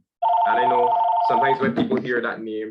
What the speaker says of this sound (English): excuse the phone there